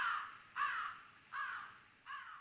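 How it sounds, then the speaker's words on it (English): A crow caws three or four times in a steady rhythm inside the Sega CD game Snatcher, each harsh call loud and close with no voices over it. "Ah, it's just a crow."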